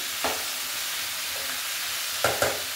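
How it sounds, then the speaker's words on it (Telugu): Leafy greens fry in a pan with a constant soft sizzle, broken by several sharp stirring scrapes, one early and two close together near the end. "చూడండి కొంచెం తిప్పుతున్నామండి, ఆకు మాడుతుంది"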